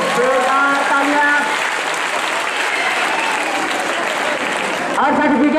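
Loud audience applause at a prize distribution ceremony for a GK competition, dense sustained clapping from a crowd, heard under an amplified voice speaking over it.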